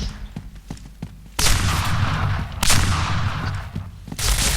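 Gunfire and explosions from the online shooter PointBlank come in loud, dense volleys separated by short lulls, with heavy blasts starting abruptly.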